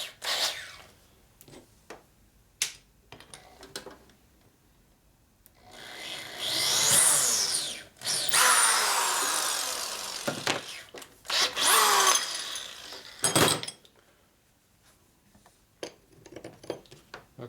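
A drill bores a 3/8 inch hole in a metal part during a Harley-Davidson 1965 Panhead FLH rebuild, with intermittent grinding bursts of a few seconds each separated by quiet pauses and small clicks.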